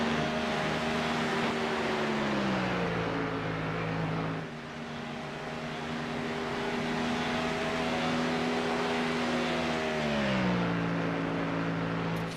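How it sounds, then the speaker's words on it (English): A Ford Mustang race car engine roaring down the Camel Straight at Spa in a sim racing 24-hour event, a sustained droning growl with pitch shifts as it changes gear and holds speed. "you can hear the Mustang kind of roar its engine"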